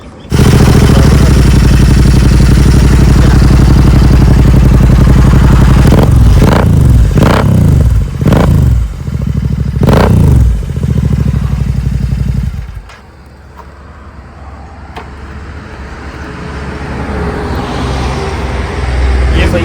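A Royal Enfield GT 650 motorcycle with Red Rooster exhausts revving hard and close, a loud sustained idle broken by several sharp throttle blips and roars, then dropping to a quieter idle for the last stretch.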